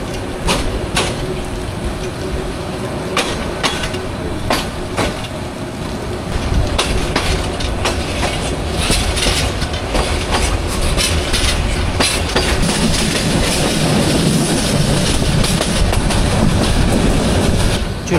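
The Upaban Express runs on rails in heavy rain, with steady loud rumbling and rhythmic wheel clatter heard from inside, plus occasional sharp clicks, for the whole stretch.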